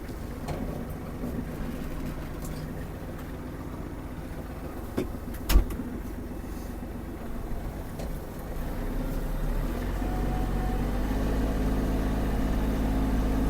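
A Kubota GL-261 mini tractor with a cab runs close by as it turns in place, its engine droning steadily with a few clunks and a rising low rumble toward the end.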